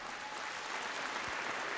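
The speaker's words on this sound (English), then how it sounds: "Let's have a massive round of applause for Jasmine Carlin." Sustained audience applause at a British swimming championships, a dense steady wash of clapping from a large crowd filling the whole moment.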